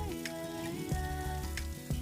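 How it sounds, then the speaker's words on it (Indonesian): Chicken wings coated in rice flour fry in hot oil, a continuous soft crackling sizzle with scattered pops, steady and fairly quiet with no talking. "Sekarang kita panaskan minyak. Untuk bagian sayap kita goreng selama 11 menit ya."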